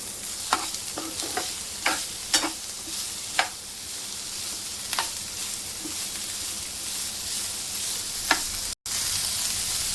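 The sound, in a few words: stir-frying cauliflower, capsicum and peas for masala Maggi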